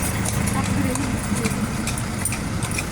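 Horse hooves clip-clop in a steady rhythm on a hard road under constant engine and road noise, with people talking over it.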